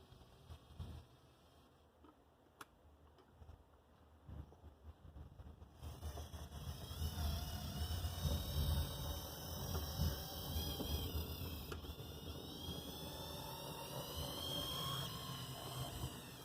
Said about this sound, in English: For a brass locomotive, that sounds pretty good. A little high and whiny